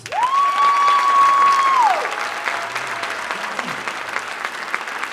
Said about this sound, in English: I want a round of applause for that.